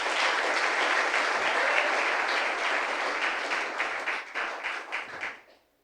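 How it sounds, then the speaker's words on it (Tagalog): A church congregation at JTG Manila Church breaks into loud, sustained applause that holds steady, then thins into scattered claps and fades out to silence. "Palakpak ng malakas kay Lord."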